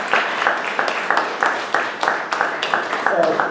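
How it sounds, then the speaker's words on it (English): Audience applause at a Families United 4 Justice gathering, a steady wash of clapping at moderate loudness with rhythmic louder claps running throughout. "Thank you for clapping."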